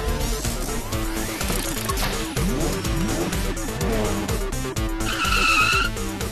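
An animated Super Speedo car bursts away with screeching, skidding tires, a loud continuous cartoon effect layered over busy music with a bright chiming flourish near the end.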